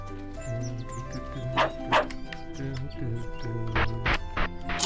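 A cartoonish dog in the video game World's Dawn gives a few short yipping barks over looping game music with soft tonal chimes.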